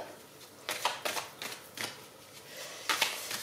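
Oracle cards from a Smoothie in Love deck are shuffled and drawn, with a series of close, sharp riffling bursts in an uneven rhythm and brief pauses between them.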